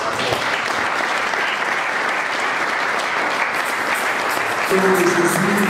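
A church congregation breaks into sustained, dense applause, loud and continuous throughout, with a voice and some music entering near the end.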